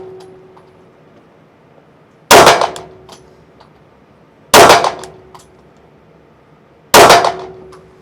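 Three loud, sharp metallic clangs ring out a couple of seconds apart as Canik Combat pistol rounds strike a steel target, each impact decaying quickly into a quiet outdoor background.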